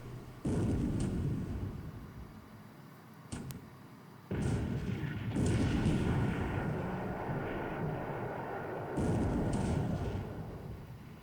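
Naval shell fire in the strategy game War in the Pacific arrives as several heavy, rumbling booms that roll on for a few seconds each, with a brief gap between the first and the later blasts.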